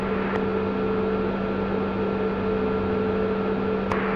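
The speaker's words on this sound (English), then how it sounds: "Press the start button and hold it for 2-3 seconds until the left engine comes to life." A Mi-24P Hind helicopter's left engine spinning up during startup in the DCS World flight simulator, a steady loud whirring drone with constant tonal hum, no voices.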